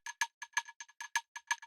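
A first percussion loop for a slap house intro, made of short, dry, cowbell-like tonal hits in a syncopated pattern, close and clean with small gaps of silence between strikes.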